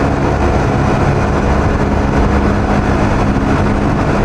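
A motorcycle rides through Singapore's MCE undersea tunnel at about 80 km/h, producing a steady, loud, broadband roar of engine and wind that echoes off the enclosed walls with no break.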